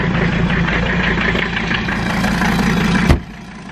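An old, worn Mercedes engine runs at a steady, loud idle with a continuous low rumble, then a sharp knock near the end before the sound drops away.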